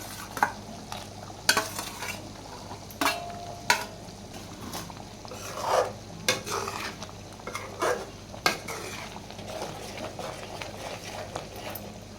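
Brinjal is stirred into boiling gravy in a pot, with scattered scraping and clinking strokes of a spoon against the vessel over a low bubbling simmer, close and fairly quiet.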